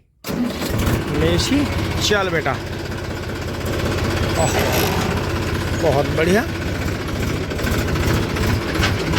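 A double-clutch tractor engine starts with a quick catch and then runs at a steady, close, rumbling idle throughout, while people talk over it.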